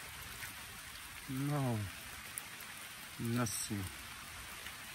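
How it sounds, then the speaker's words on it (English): Steady rain falls across a forest, a soft continuous hiss throughout, while a voice speaks briefly over it twice. "Now the sky is raining."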